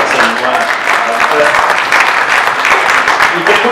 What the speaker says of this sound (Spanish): un aplauso para esa nueva.